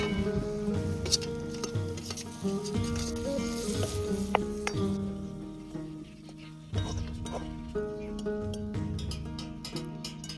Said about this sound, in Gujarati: ડુંગળી તેલમાં ચડી જાય તો આમ આપણે મરચું અને આદાનો પેસ્ટ એડ કરી દો.